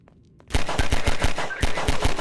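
Pistol shots in the Half-Life 2 video game, a quick run of about a dozen sharp rhythmic cracks starting abruptly after a brief quiet moment, loud and close.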